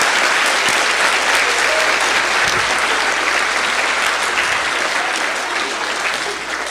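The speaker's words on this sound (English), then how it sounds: "Students, please give your teachers and your staff a round of applause." Students applaud their teachers and school staff at a school heritage day event, a dense, steady round of crowd applause that holds throughout before easing slightly at the end.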